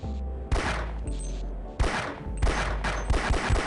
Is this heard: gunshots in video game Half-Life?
yes